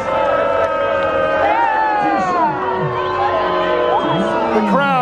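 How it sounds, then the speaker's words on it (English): A crowd at a couch racing event in Sanford, Florida, cheers, whoops and shouts continuously, with loud voices swelling and overlapping close by throughout. "The crowd letting them hear it."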